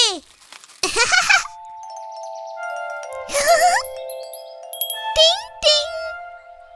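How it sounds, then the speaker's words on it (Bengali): Bright metallic tinkling of a wind chime in a Bengali cartoon, several scattered rings with sustained tones, close and fairly loud, with brief voice-like bursts between them. "যদি হাওয়া দেয় তাহলে হাওয়া ঘন্টি বাজবে আর চরকিও ঘুরবে"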